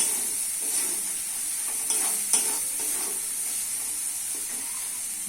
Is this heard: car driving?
no